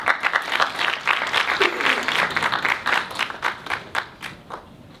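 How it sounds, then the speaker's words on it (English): Audience applause at a university student-government senatorial debate as the candidates leave the stage, a steady wash of many hands clapping that thins and becomes more scattered toward the end. "please give our candidates a warm round of applause as they exit the stage"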